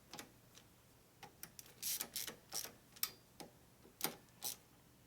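Bolts on a 2001 Gilroy Indian race bike being tightened down in a cross pattern, a string of sharp, close ratcheting clicks arriving in short irregular bursts over a quiet background.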